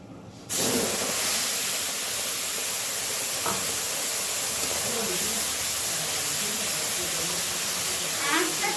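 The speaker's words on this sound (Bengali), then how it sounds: "তেলটা গরম হয়ে গেছে এখন ঢেলে দেবো এই পিসে রাখা মশলাগুলো" Ground spices tipped into hot oil for a Bengali mustard-paste fish curry erupt into a loud, steady sizzle and hiss that starts abruptly and holds for several seconds, with faint kitchen clatter.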